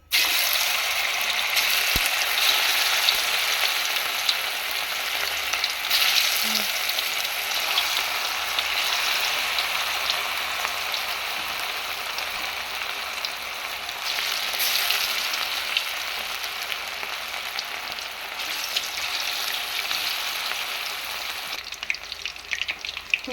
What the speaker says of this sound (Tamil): இப்போ நம்ம வந்து எண்ணெயில் போட்டுருவோம்.